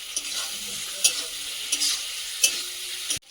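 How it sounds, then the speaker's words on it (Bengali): Tomatoes frying with salt in a pan while a meat curry is being cooked, a steady bright sizzle with a few louder scraping stirs, close and continuous with no talk, cut off abruptly at the end. "ওইটা একটু ভেজে নিন টমেটোগুলো তাড়াতাড়ি গলে যাবে লবণ দিয়ে দিলাম একটু"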